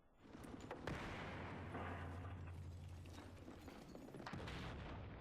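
Flashbang grenade going off upstairs in a tactical shooter game during a room-clearing breach: a sharp bang followed by a sustained loud roar and rumble lasting several seconds, with a second burst near the end.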